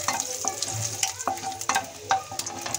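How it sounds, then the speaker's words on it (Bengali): Cut nuts frying in a pan: a busy sizzle with quick crackles and scraping stirs close by, rhythmic bursts repeating throughout. "একটু ফ্রাই করে নেব।"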